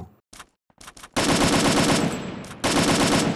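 Automatic weapon fire in the Free Fire game: a few quick isolated shots, then a loud rapid burst, a short pause, and another sustained burst, all close and without talk.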